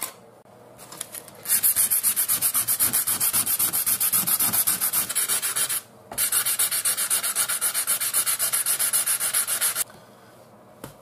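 Knife handle liners roughed up on a sanding machine, two long, loud continuous gritty sanding runs split by a brief pause, close up and steady, with a quieter motor hum before and after.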